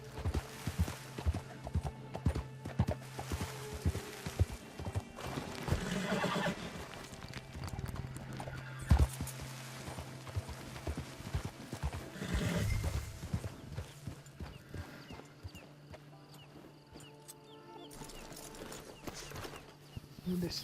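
Horse hooves clip-clop steadily with occasional whinnies in Red Dead Redemption 2 online beta gameplay, set against continuous game ambience, with no speech over it.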